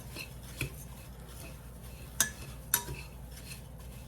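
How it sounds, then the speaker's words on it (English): Dry granola ingredients are stirred together in a bowl, a soft rustling mix broken by a few sharp clinks of a spoon against the bowl. "I am gonna just stir and combine those dry ingredients together"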